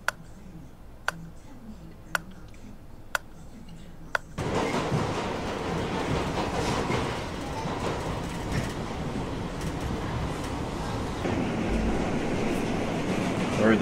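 A few sharp ticks sound at a steady pace, then a loud, continuous New York subway train rumble takes over and fills the rest of the ride near 14th Street.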